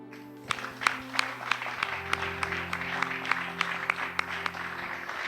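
A church congregation cheers and applauds to welcome a new believer, with scattered sharp claps over a sustained crowd roar and steady background music tones throughout.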